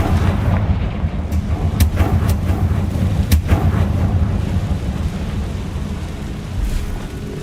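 Confringo spell blasts in the Hogwarts Legacy video game, a string of booming explosive hits over a dense, continuous low rumble, with sharp cracks rising out of the roar.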